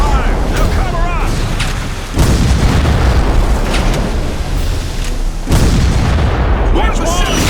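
Ship cannons fire in a Civil War naval battle video game, two heavy booms landing a few seconds apart amid dense battle noise, with a voice shouting over the din.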